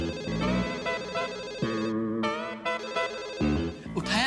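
A telephone ringing on the line, heard as a loud, steady musical ringtone melody of sustained tones that fills the whole stretch without pause or voices.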